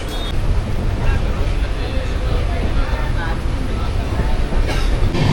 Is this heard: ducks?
no